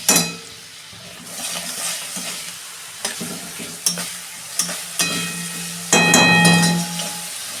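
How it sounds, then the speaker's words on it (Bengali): Onions fried until reddish in a pan with a spoonful of garlic paste added, a close sizzle broken by repeated stirring scrapes and clinks, growing louder and hissier near the end. "পেঁয়াজ ভাজা আমার হয়ে গেছে লাল লাল করে। এই যে রসুন বাটা দিচ্ছি 1 চামচ"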